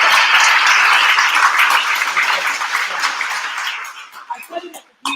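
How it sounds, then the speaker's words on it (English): Loud audience applause at a live women's brunch event, a dense sustained wash of clapping that gradually thins out and fades toward the end. "Can y'all just clap it up for Mr. Don Mann?"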